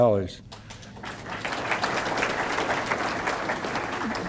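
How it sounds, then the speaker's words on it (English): After a voice briefly speaks, audience applause breaks out at a charity donation announcement in Rochester, a sustained even wash of clapping from a sizeable crowd, moderately loud and steady to the end. "I appreciate the applause"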